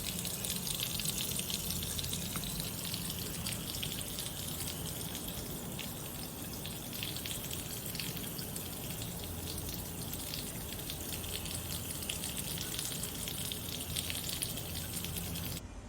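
A kitchen sink faucet sprayer running at full flow, a steady, even rush of water hissing continuously and close by with no pauses.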